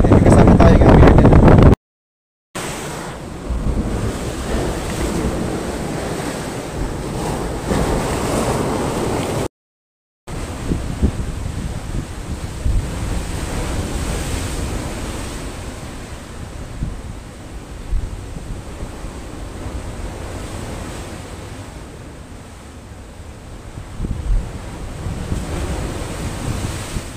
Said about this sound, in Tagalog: medyo malakas ang alon dito